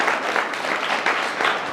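Brief applause from an audience, likely children, for a student at a mock exam event, a dense steady patter of clapping throughout.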